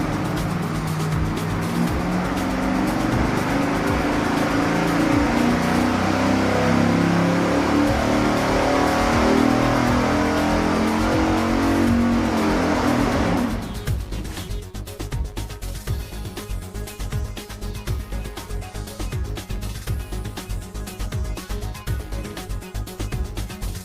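A dyno-mounted V8 with block hugger tubular headers and a small cam, roaring at sustained high revs for about thirteen seconds, then cutting to a lower, rougher idle-like rumble, loud and close with no talk.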